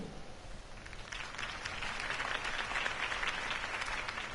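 Steady applause from a large crowd in Batman: The Telltale Series, many hands clapping continuously and evenly throughout, with no talking.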